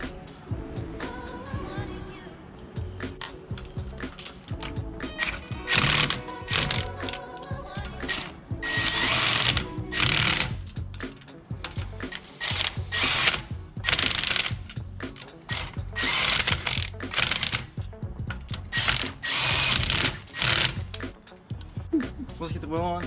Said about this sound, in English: Just go ahead and finish it up with your torque wrench and then you're good to go.